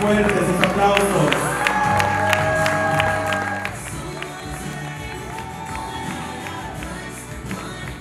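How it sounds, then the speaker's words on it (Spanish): Party guests at a quinceañera applaud and cheer loudly over background music, the clapping strongest early and easing a little in the second half. "Más fuertes sus aplausos."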